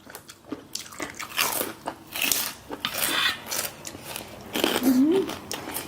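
Crunchy chewing of Thai spicy salad made with sabai nang, snail meat and fresh raw vegetables, with close, repeated bites and crunches against a speaking voice.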